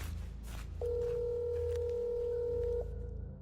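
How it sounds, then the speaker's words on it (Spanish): A single telephone ring tone, a steady electronic beep held for about two seconds, sounds over a low rumbling ambient bed in a horror story setting. No one speaks. "Su teléfono sonó una vez, luego fue directo al buzón de voz."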